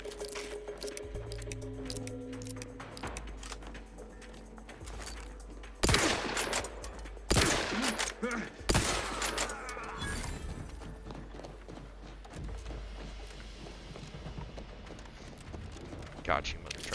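Sniper gunfire in the Outer Worlds 2 video game comes as several sharp, loud cracks with roaring tails amid continuous game noise and a voice talking throughout.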